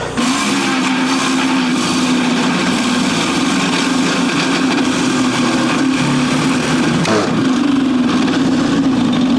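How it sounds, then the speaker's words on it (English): A portable generator runs steadily and loudly nearby, a constant droning engine hum powering an electric Troy-Bilt TB240 mower, with a brief shift in tone near the end. "you may or may not be able to hear my generator running"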